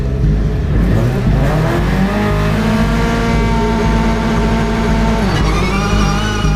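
Two Subaru rallycross cars roar down the front straight in a Nitro Rallycross race, a loud continuous engine drone with rising and falling pitch as they accelerate and shift, close and dense throughout.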